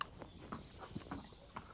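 A saddled horse walks with soft, rhythmic hoof clip-clops, a few faint, evenly spaced beats with no voices.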